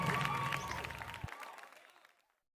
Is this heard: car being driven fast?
no